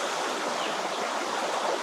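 A stream flowing steadily close by, a continuous broadband rush of water with no breaks and no voices.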